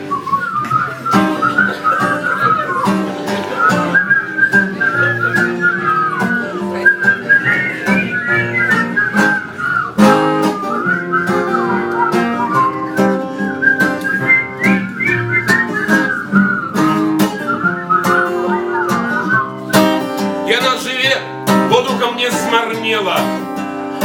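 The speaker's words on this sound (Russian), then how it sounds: "а зараз свистим" Several people whistle the melody of a song together, loud and sustained, with a strong rhythmic backing and occasional sharp accents throughout.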